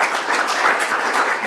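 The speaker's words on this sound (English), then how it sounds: "big round of applause for our speakers" An audience at a startup panel session claps for the speakers, a brief, dense patter of many hands at moderate loudness, with no talking over it.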